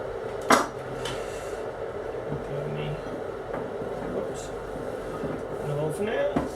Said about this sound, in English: So let me just grab a bowl.